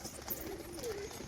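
A Sheeshebaji pigeon gives a soft, low cooing call while performing, two brief drawn-out coos close by against a faint background hiss.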